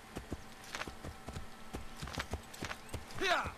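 Horse hooves clop at a walking pace in Assassin's Creed III as the horse is steered onto a dock, a steady close run of hoof strikes, with a brief whinny-like sound near the end.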